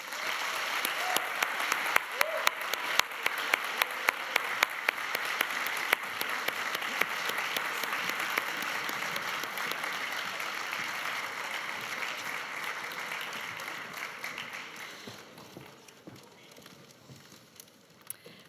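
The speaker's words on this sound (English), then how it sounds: "Let's all give a big applause to our jury." A large audience applauds the jury at a global case competition final held on stage. The dense clapping stays strong for about fifteen seconds, then fades into scattered claps.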